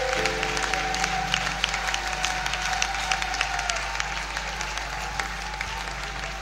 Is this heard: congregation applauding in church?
yes